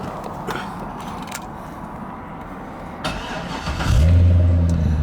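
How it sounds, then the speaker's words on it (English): A 2008 C6 Corvette LS3 engine catches after a few seconds of shuffling, firing with a loud low roar that settles into a strong, steady idle. "This engine starts right up."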